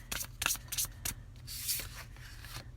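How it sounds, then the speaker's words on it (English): Oracle cards being shuffled by hand, soft papery riffles and rubs in quick bursts, close and quiet with no talk. "Sometimes this deck has a specific way it needs shuffled."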